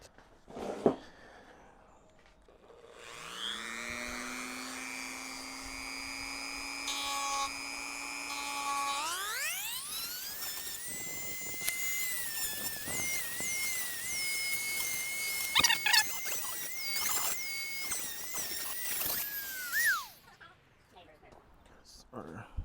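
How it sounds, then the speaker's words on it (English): A small rotary tool grinds down plastic rivets on an 8HP transmission housing, its motor spinning up to a sustained high-pitched whine with rising pitch and intermittent grinding contact for about seventeen seconds, close and loud, with a voice speaking at times. "there's some plastic rivets that will need to get grinded down, so that way we can take this plastic apart"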